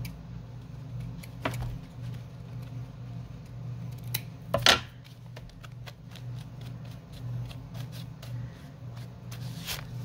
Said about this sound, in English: Actually, I'll just trim it right here.